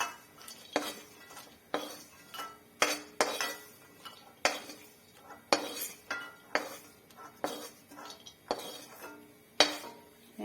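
A metal utensil scraping and scooping dry-roasted rice out of a pan, a string of light clinks and scrapes in an irregular rhythm, fairly quiet and close with no speech.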